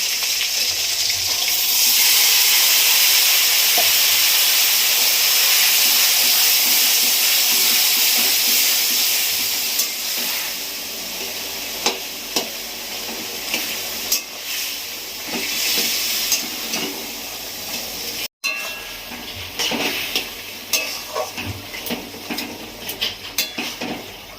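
Taro leaves go into a hot pan for a hilsa-head taro greens dish, giving a steady broadband sizzle with scraping and clinking of a utensil stirring against the pan, loud and continuous with no talking.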